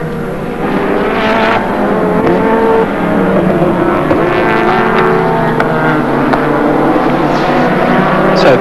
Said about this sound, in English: So Colin Bond, CALTEX Sierra, number 4, heads out after Tony Longhurst